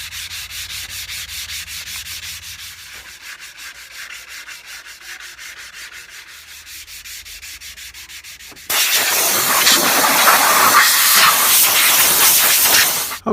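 Steady abrasive rubbing as rust is sanded off the steel mast of a Wood-Mizer sawmill, a rhythmic scraping that turns noticeably louder and harsher partway through and continues without talk.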